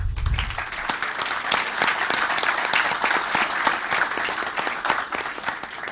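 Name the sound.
audience applause at a debate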